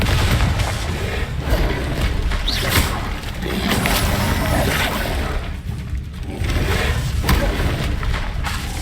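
Bombarda and Confringo spell blasts in the video game Hogwarts Legacy, a dense run of loud booms and heavy thuds one after another, layered over a constant busy rumble of combat noise.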